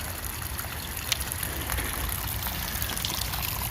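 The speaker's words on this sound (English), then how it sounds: "Got a little pump, dug a little hole for that, a little 12-volt battery" A small 12-volt water pump at a dug hole moves water in a steady, soft trickling and gushing flow, close and continuous with no talking.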